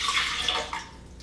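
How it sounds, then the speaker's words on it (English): Filtered water pours into a blender for a green smoothie, a splashy gurgling stream that is loud at first, then fades and thins toward the end. No one speaks. "So I'm going to start by adding some water."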